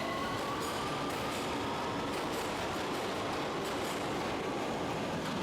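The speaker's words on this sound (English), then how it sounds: "The train moves away quickly." Train pulling away from a station with a steady broad rumble and rail noise, a faint squeal of wheels and light clicking throughout, moderately distant and continuous.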